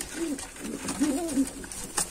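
A pigeon coos softly nearby in a few low, rolling phrases, with light background noise and a brief click toward the end.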